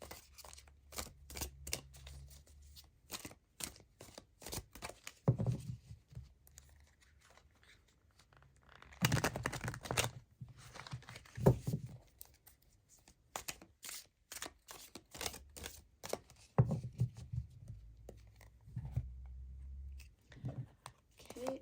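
Oracle cards from a Career and Life Oracle deck being shuffled and handled: soft, close crinkling and riffling bursts that come and go in irregular clusters, with quiet pauses between them and no talking.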